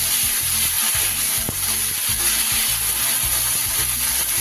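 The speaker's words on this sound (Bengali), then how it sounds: "আদা রসুনের কাঁচা গন্ধটা যতক্ষণ না যাচ্ছে খুব ভালো করে কষে নেব" Ginger garlic paste fries with chilli powder in a pan for a Bengali loitya fish curry, giving a steady, loud, close sizzle with light stirring scrapes throughout.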